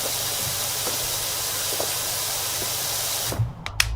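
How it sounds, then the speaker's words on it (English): A power washer in the game Power Wash Simulator sprays in a steady, loud hiss that cuts off near the end, leaving a few small clicks. "How's the power washer not destroying this?"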